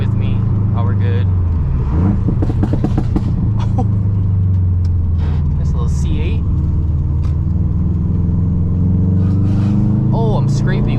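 Stage 2+ Subaru WRX STI with a loud aftermarket exhaust, driving on twisty roads: a steady low engine drone with exhaust rumble runs throughout, under a man's close, frequent talk.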